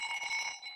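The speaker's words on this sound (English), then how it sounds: "that's my alarm" Alarm sounding during a live online Q&A stream, a brief steady electronic tone with stacked harmonics, faint and distant, alone without talk.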